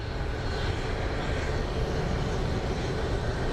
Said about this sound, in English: And of course an Airbus would turn on when this friggin' thing lifts off.